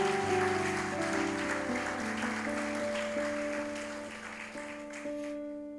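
A church congregation claps steadily during a worship service while sustained organ or keyboard chords ring underneath, the applause gradually fading toward the end.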